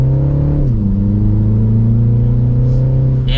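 A 2025 Mini Cooper S two-door hardtop accelerating gently, its engine revving up loud and close, with a quick upshift drop in pitch before the note climbs steadily again.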